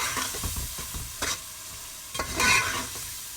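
Masala spices sautéing in a pan for kaddu chicken, a soft steady sizzle broken by repeated scraping and stirring strokes of a spoon, close and fairly quiet with no talk.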